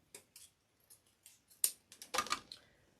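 Scissors snip balloon ribbon for a gift balloon bouquet in a series of short, close cuts, spaced irregularly, with a louder cluster of snips near the end.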